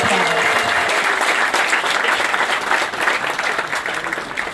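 Crowd at the Phoenix Wheel dedication ceremony in Phoenixville applauding loudly, a thick continuous roar of many hands close by that slowly eases toward the end.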